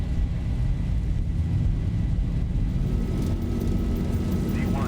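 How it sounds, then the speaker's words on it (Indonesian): Jet engines of an airliner roar steadily as they spool to takeoff thrust on a flight to Bali, a loud broadband rumble filling the cabin with faint voices underneath. "Take off thrust set."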